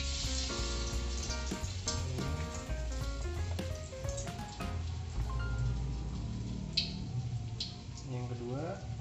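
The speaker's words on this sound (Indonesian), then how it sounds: "Nah, ini sekarang kita goreng." Stuffed tofu with Indomie frying in oil, a soft continuous sizzle heard beneath a person talking over music.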